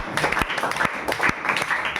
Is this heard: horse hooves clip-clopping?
no